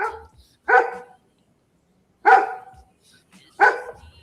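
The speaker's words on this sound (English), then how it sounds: "I'm gonna go kill that fucking dog." A dog barks in three separate loud bursts, each a short cluster of sharp barks, spaced by silent gaps and heard close by.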